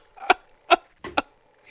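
A person coughing during a tabletop roleplaying game session, four short sharp bursts spaced out over a couple of seconds, close and fairly loud against quiet surroundings.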